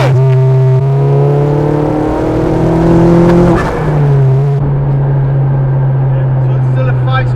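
A 300bhp homebuilt Vauxhall Nova with an Astra VXR engine, front-wheel drive with a limited-slip diff and five-speed gearbox, accelerates hard; loud, close engine note climbs steadily, breaks at a gear change, then holds a strong drone.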